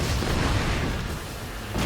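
A cannon or howitzer shell drops onto a vehicle in a racing video game and explodes, giving a sustained, loud low rumbling burst with broadband roar across the whole moment, no speech over it.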